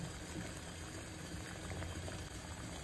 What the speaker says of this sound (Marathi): आपण ह्याच्यामध्ये आपले रसगुल्ले उकळून घेणार